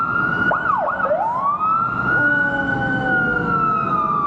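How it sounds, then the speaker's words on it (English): A loud fire engine siren, close by in Hollywood as the engine pulls out, with a few quick yelping wails followed by a long steady rising tone over traffic rumble. "Oh, fire engine's coming out."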